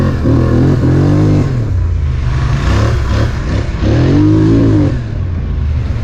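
Engine of a 2020 Polaris ATV revving on a first ride, a loud continuous motor roar that rises and falls in pitch, close up, with no talking.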